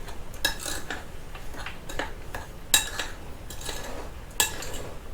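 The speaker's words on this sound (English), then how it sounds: "Mix all my dry ingredients together." Dry ingredients for peach cobbler (sugar, baking powder and salt) being stirred together in a bowl, with a soft scraping swish broken by a few sharp utensil clinks against the rim, close and without talk.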